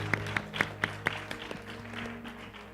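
Sparse, scattered hand claps in a church after a sung hymn, a handful of distinct claps from a small congregation that taper off quickly.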